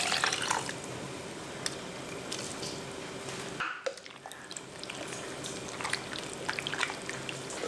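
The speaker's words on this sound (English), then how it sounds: "Then add the remaining water and" Water pours and trickles close by, splashing steadily into a pot of Korean seaweed soup, with a brief pause midway before the flow resumes.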